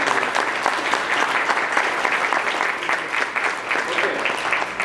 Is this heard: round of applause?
yes